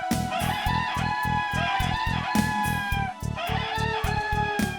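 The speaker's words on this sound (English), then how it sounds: "chickens." Chickens cluck in a looping, game-style sound effect from a Rurouni Kenshin video game, repeated cackling calls over a steady pulsing backing rhythm, with no talking.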